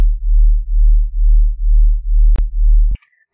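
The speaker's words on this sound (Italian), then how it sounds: "otteniamo quello che si chiama battimento" Two synthesized sine tones a semitone apart sound together, pulsing in a steady wah-wah beating rhythm at loud level, then cut off with a click and a brief higher chirp.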